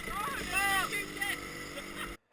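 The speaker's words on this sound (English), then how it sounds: "fortunately the engine did start" A racing kart engine at a British university kart championship endurance race pit stop fires and revs loudly with rising and falling whine, mixed with shouting voices, before cutting off abruptly at the end.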